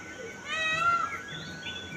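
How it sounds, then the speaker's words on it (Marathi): A peacock calling in a village in the morning, a single brief wailing cry with layered harmonics that rises and then fades, moderately close, with no speech over it. "हे जे आवाज येत आहे तो मोराचा आवाज आहे"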